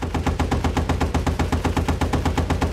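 Machine gun fire in Battlefield 1943, a steady rapid stream of loud, evenly spaced shots that continues the whole time without a break.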